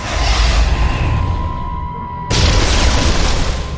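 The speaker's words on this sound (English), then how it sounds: "The console just exploded." Console exploding in Star Wars: The Old Republic game: a deep rumbling boom with sustained low roar, then an abrupt louder burst of crackling debris partway through, heard alone without speech.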